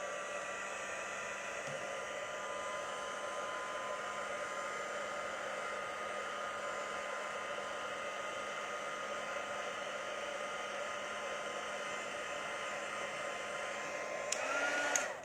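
A handheld heat tool blows steadily for about fifteen seconds, warming layers of ink on a card; a constant airy whir with no pauses, close and alone, ending with a brief click.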